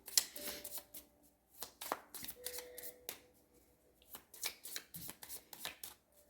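A tarot card deck is shuffled by hand to pull a card: a series of crisp riffling flutters and sharp card snaps in irregular bursts, close and fairly quiet, with no talking.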